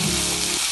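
Tomatoes with turmeric and salt fry in a pan, giving a brief, close, dense sizzle with a low rumble that drops away near the end, no voices.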